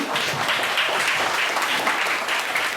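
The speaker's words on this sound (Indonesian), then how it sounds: "Saya boleh minta tepuk tangan yang meriah untuk acara ini." A crowd gives lively applause at an outdoor charity and social service event at Kendeng Lembu garden in Banyuwangi. Dense, even clapping fills the short stretch with little else audible.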